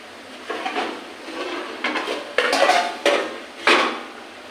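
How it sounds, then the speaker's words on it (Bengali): Spices being stirred into vegetables in a pot for an oil-free vegetarian pachan, with several separate bursts of scraping and clinking from a spoon against the cookware, spaced out over a few seconds. "মশলাটা আমি সব সবজির সঙ্গে মিশিয়ে নিই।"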